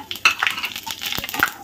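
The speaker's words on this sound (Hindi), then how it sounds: "अब इसमें डालेंगे हम ये 2 से 3 तेज़पात के पत्ते, ये बड़ी इलायची, 8 से 10 काली मिर्च और 1/2 चम्मच जीरा।" Bay leaves, black cardamom, black peppercorns and cumin seeds go into hot oil for a dhaba-style rajma, giving brief clinks and rattles of spices hitting the pan, then light stirring and a soft sizzle up close.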